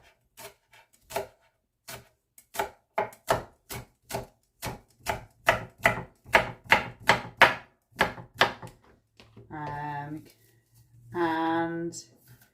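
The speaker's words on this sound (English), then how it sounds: "And then some spring onion, a few slices of spring onion." A knife slices spring onion on a cutting board in a raw vegan spaghetti bolognese prep, a quick series of about fifteen crisp, close chops in a steady rhythm, followed by two longer, louder scraping sounds.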